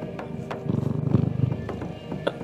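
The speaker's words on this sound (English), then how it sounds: "Can you hear him purring?" Soft, steady purring from a pet cat, a low rhythmic rumble pulsing continuously at close range for a couple of seconds, with faint clicks and room noise around it.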